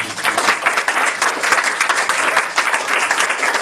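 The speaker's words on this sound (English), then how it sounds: "Big round of applause." A crowd at a Hare Krishna Radhashtami festival gathering at ISKCON Philadelphia gives a big round of applause, dense clapping that swells and holds steady, fairly loud and close.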